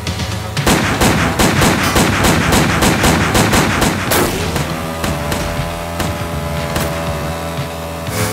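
Rapid bursts of loud gunfire from a TV commercial crack out in a fast rhythmic volley for several seconds, then give way to a ringing, echoing tail.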